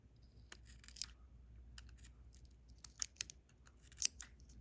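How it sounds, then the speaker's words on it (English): Scissors snip at resin bead material in a handful of quick, sharp, close clicks spaced irregularly over a quiet background. "Now it might be a good idea just to take a scissors and snip it a little bit."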